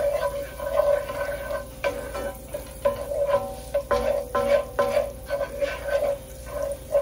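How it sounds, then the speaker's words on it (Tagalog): Ginger sautés in a pan with margarine while a spoon stirs in repeated scraping strokes over a steady low sizzle, with a faint background hum throughout. "Tapos luya or ginger, ayan. Gisa natin guys."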